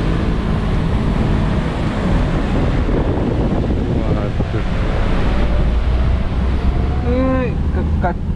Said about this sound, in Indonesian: Angin. Parah nih.